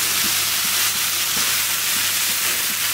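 Spinach and eggplant fry in a pan while being gently stirred, a loud, steady sizzle and hiss that fills the moment without pause.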